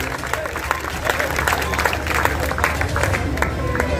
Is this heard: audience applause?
yes